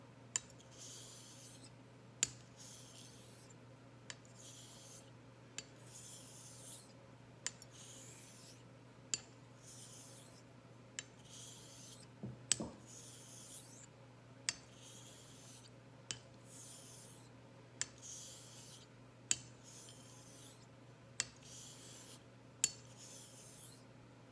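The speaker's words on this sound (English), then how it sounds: "Right now I'm just honing with the weight of the blade, like I usually would for an 8K." A straight razor honed under its own weight on Jnat nagura slurry over a surgical Black Arkansas stone, with soft regular rasping strokes and light clicks at each turn, quiet and steady.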